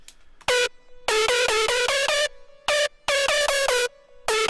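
Synth sound distorted with the Blood Overdrive plugin in FL Studio for a hardstyle track: bursts of bright, buzzy, gritty notes in choppy rhythmic groups, separated by short gaps of quiet sustained tone, loud and alone.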